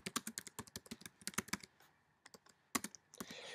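Rapid clicking of a computer keyboard as someone types a short message, a quick run of crisp, close keystrokes followed by a brief pause and a few final taps.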